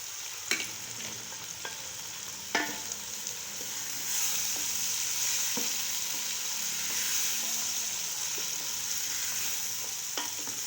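Tomatoes sizzle and fry in a pan for beef macaroni, with a few sharp clinks of a spoon stirring early on, then a steady close hiss that continues alone without speech.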